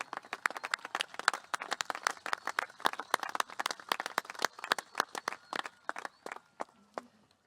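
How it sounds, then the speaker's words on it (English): Scattered claps from graduates at an outdoor commencement ceremony, a few dozen pairs of hands slapping in an uneven, sparse rhythm, fairly close and moderately loud. "Let's give them a big round of applause for all they have done to support you."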